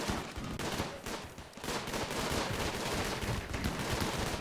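Slaughter turrets in a floating-islands tribe survival video game pour steady rapid fire into attacking machinoids, a dense, continuous rattle of gunshots with brief dips that stays loud for the whole stretch, with no one talking.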